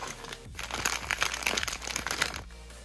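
Plastic packaging wrapped around small Monster High doll shoes crinkles and crackles close up in a dense burst of rustling that lasts about two seconds, then stops.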